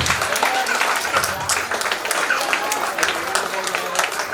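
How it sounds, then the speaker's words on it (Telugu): Sustained applause from an audience at a pre-primary school annual day celebration, dense steady clapping filling the hall without pause, close and loud. "5 ప్రైజులు ఇచ్చే వరకు క్లాప్స్ ఎవరు ఆపుతారో చూద్దాం"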